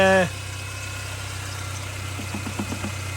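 A €200 Renault Clio, just woken from winter storage, idles with a steady low engine drone after a brief tonal sound at the start, with faint rhythmic ticking underneath.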